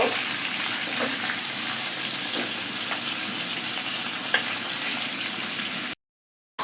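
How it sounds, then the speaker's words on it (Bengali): Chicken chaap fries in a pan with a steady bubbling sizzle and occasional light clicks, then cuts to near silence at the end. "বাকিগুলো এভাবে আমি ভেজে নিব"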